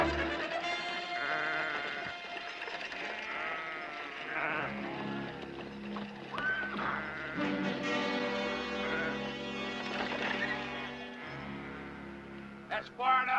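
A flock of sheep bleats repeatedly in an outdoor Western ranch setting, with many overlapping calls at moderate loudness, plus brief voices.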